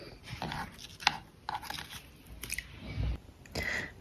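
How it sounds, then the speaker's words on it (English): Apple slices being chopped with a knife on a board for apple pie, a series of crisp irregular cuts and crunches up close with quiet handling sounds between. "So I finished chopping the apples"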